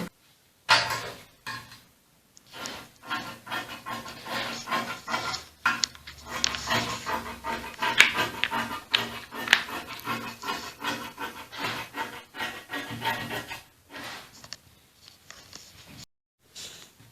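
Scissors cutting fabric pieces for an A-line gown, a close, steady run of snipping and rustling cloth with short pauses between cuts.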